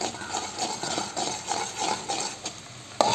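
A spoon scrapes and stirs chili powder into a curry in a pan with steady, rhythmic strokes at close range, ending with a sharper knock of the spoon.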